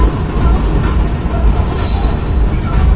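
Heavy Union Pacific coal train rumble and rolling wheel noise fill the clip steadily and loudly at a railroad crossing, with faint high squeals of braking mixed in.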